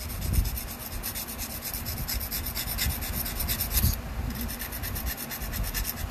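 The tip of a flexible knife blade is rubbed on a sheet of sandpaper, producing a steady, faint rasping scrape with rhythmic back-and-forth strokes throughout, with no talk over it.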